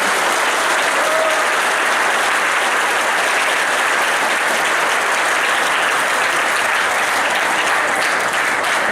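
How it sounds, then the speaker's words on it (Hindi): Audience at a school drama performed by children applauds, a loud, steady, dense clapping that fills the room without a break for the whole span. "उन बच्चों के लिए एक बार बहुत जोरदार ताली बजाइए"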